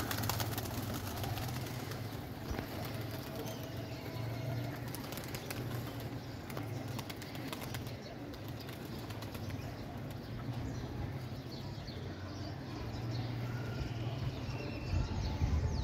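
Pigeons coo softly amid a busy rustle of feathers and occasional wing flaps, with faint background noise throughout.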